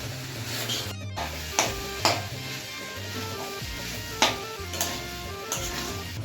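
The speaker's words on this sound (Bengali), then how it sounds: "ডালটাকেও সবজির সাথে ভালোভাবে কিছুক্ষণ 2 থেকে 3 মিনিটের জন্য কষিয়ে নেব" Dal and vegetables being sautéed in a pan: a continuous low sizzle broken by several sharp scrapes and clinks of a utensil stirring, close by, with no voices.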